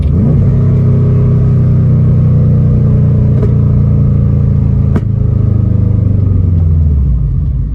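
A burble-tuned car that is not fully warmed up decelerates from about 3,000 RPM with a loud, steady engine drone. A couple of sharp exhaust pops crack through before the engine note winds down near the end.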